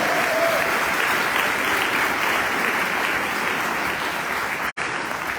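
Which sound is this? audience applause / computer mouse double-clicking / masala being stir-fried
audience applause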